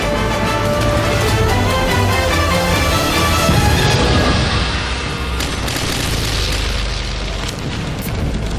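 Continuous deep booming and rumbling explosions of a naval battle with falling planes, loud and sustained, with layered blasts and a heavy low roar throughout.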